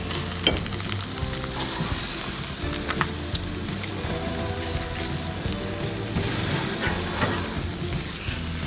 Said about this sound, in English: That sizzle is great.